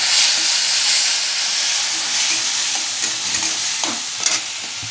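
A spice mix hits hot oil in a pan for pabda fish curry, a loud bright sizzle and hiss that settles slightly, with a few stirring scrapes near the end.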